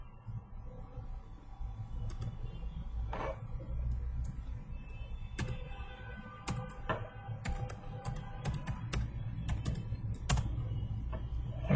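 Keys clatter on a computer keyboard as a sudo ifconfig command is typed to set an IP address, with irregular bursts of quick clicks close by over a steady low room hum.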